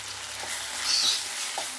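A spoonful of ginger garlic paste frying in a pan for a gongura egg curry, an even close sizzle with faint scraping stirs, short and steady, no voices.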